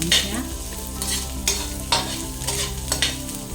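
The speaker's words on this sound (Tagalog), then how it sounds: "Then ilagay na po natin yung sibuyas bawang. Meros muna until mag-brown siya." Onion and garlic sautéing in olive oil in a pan for Filipino pinakbet, a close sizzle and fry punctuated by rhythmic scraping strokes of a stirring utensil.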